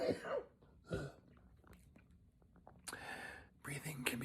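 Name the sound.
coughing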